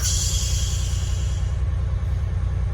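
A steady engine idling close by at regular idle, about to cut out, low rhythmic rumble with faint high whine, running evenly without cutting out.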